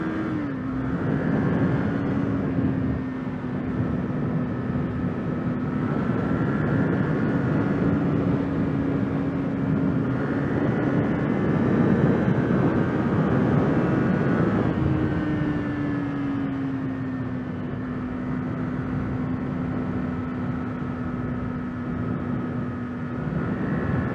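A 2024 Kawasaki Eliminator motorcycle at open throttle, a steady, loud engine drone under wind rush that climbs in pitch through the gears, with a brief dip at a shift midway.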